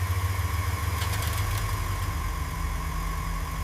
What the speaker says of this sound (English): Listen to that engine hum.